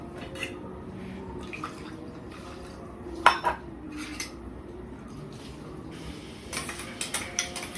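Coconut-mango fish curry being stirred in a pot, with a bubbling simmer under intermittent spoon knocks and scrapes against the metal, one sharp clank midway and a cluster of clinks at the end, close and fairly quiet.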